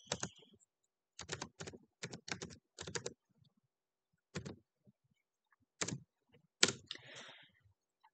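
Typing on a computer keyboard in short bursts of quick, close key clicks separated by pauses, with a few single heavier taps, quiet and alone without talk.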